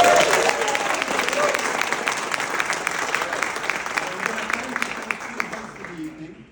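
An audience at a startup pitch event practises greeting presenters with a dense, loud wash of applause and crowd noise that holds steady and then fades out over the last second.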